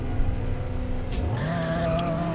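V6 rear-wheel-drive car launching in the Roblox game Greenville: a steady engine drone that climbs in pitch as the car accelerates, with a brief tire squeal, close and fairly loud.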